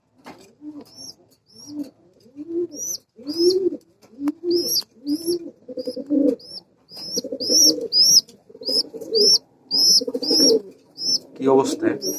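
Giribaz pigeons cooing at close range in a loft, repeated rhythmic throaty coos with higher chirping notes in between, loud and clear throughout.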